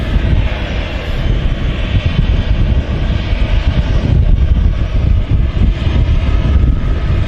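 An airliner takes off at Manchester Airport, its engines a loud, sustained broadband roar with heavy low rumble, mixed with gusts of wind buffeting the microphone.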